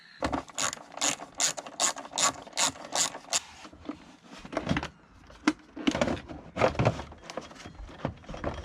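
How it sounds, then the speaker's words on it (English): Ratchet undoing a Torx retaining screw on a BMW E60 M5 air filter box: a run of evenly spaced sharp clicks, then irregular ratcheting strokes and clanks, close up with no talking. "And just the one Torx retaining screw on the left hand side air filter box before we lift that out."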